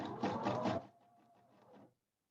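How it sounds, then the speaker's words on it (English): A sewing machine back stitches at the end of a seam on a pillow, a short quick burst of mechanical stitching that drops to a softer, slower run before stopping, close and faint. "I reach the end and I back stitch."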